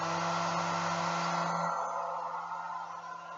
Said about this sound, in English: Then turn on your hairdryer.